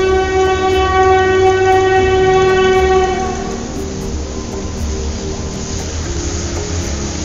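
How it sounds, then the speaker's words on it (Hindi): A vintage Kolkata city tram passes close by with a loud, steady rumble and a long sustained horn-like tone; the tone drops away partway through and a lower rolling rumble is left, with no talking. "यह कोलकाता की मशहूर विंटेज ट्राम।"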